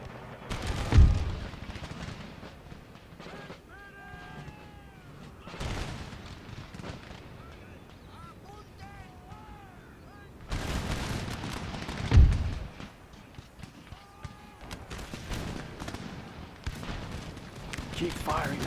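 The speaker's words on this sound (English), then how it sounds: "Keep firing, lads." Musket volleys and artillery fire in an Empire: Total War battle, heavy booming blasts around the first and twelfth seconds and scattered shots in between, with voiced soldier lines and talk over the top.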